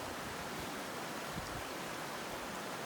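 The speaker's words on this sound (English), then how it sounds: "this is Abrams Creek" Abrams Creek in the Great Smoky Mountains flowing at a challenging crossing, a steady broad rushing wash of water, constant and enveloping with no voices.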